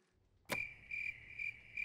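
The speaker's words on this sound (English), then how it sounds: "At least the crickets liked it." Cartoon crickets chirp in a steady, high trilling drone after a sharp burst at the start, with pulsing chirps repeating every half second or so, fairly quiet and alone.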